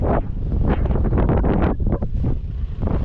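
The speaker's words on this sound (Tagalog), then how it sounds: "Sa lakas ng alon, no? Tsaka hangin." Strong wind at sea buffets the microphone in heavy low gusts, with rushing air, rough waves and boat noise beneath, loud and continuous.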